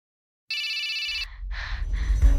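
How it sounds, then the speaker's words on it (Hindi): A telephone rings with a bright electronic tone for about a second, followed by low rumbling ambience and soft noise bursts, used as an effect in a Hindi horror story. "अचानक पापा को दीदी की दोस्त रोशनी का फोन आया"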